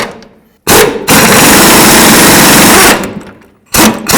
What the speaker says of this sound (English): Let's use an 18mm wrench on the nut and a swivel socket up here.